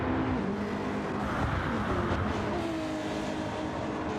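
GT500 race cars drone steadily in a racing video game, a continuous layered engine hum at moderate loudness with no clear passes or gaps.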